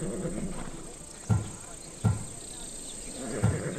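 Three hollow horse hoof thuds from the video game Assassin's Creed Odyssey land at uneven intervals over a low murmur of background noise, with a faint steady hiss above.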